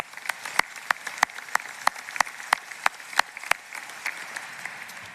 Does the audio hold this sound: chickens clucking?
no